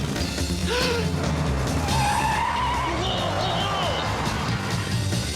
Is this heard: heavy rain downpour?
no